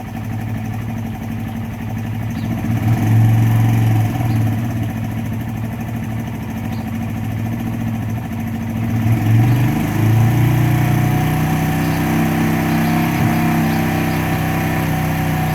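A GS 150 motorcycle engine idles steadily and loudly up close after a cold morning start, a low chugging rumble whose pitch rises slightly partway through and settles into an even idle.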